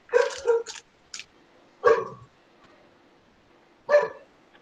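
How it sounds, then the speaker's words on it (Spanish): Dogs barking in three separate bursts, a quick double bark followed by two single barks spaced a couple of seconds apart, fairly close and loud against a quiet background. "Este es el horario en el que los perros cantan"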